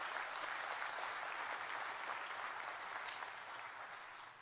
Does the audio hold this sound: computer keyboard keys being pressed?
no